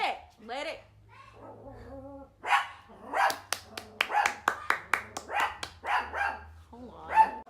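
A pet dog named Lady barks repeatedly indoors, a quick string of sharp, close barks in the second half, with a person talking briefly before them.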